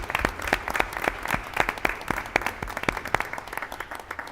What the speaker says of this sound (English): So let's give them all a round of applause again.